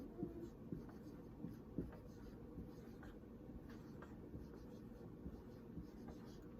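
A pen writes by hand on paper, faint scratchy strokes in a few short bursts over a steady low room hum, with no talk.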